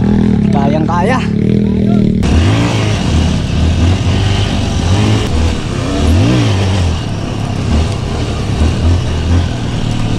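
A Honda CRF dirt bike on a trail in Barlo, Mabini, Pangasinan. Its engine revs up and down again and again, loud and close, with people talking over it.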